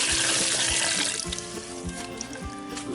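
Water pours steadily into the metal water pan of a Weber Smoky Mountain smoker, a gallon going in with a continuous close splashing rush and some sloshing, heard alone without talk.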